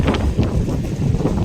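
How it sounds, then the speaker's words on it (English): Heavy wind buffeting a microphone, a continuous low rumble with gusty swells throughout and no voices. "it's very windy and bad weather"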